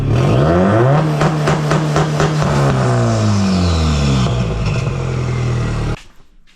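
Subaru WRX with a fender exit exhaust revving hard on two-step launch control, loud and close, engine note climbing and holding with rapid crackling pops from the limiter before cutting off abruptly near the end.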